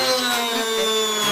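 A handheld electric grinder fitted with an upgraded, faster exhaust cooling fan runs close by with a steady, high-pitched motor whine that holds throughout.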